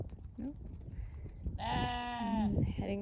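A single sheep lets out a long, loud, wavering bleat close by after a short quieter call, over an outdoor farm background with someone speaking nearby.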